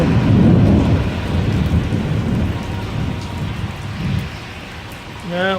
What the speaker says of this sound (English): That was some major thunder.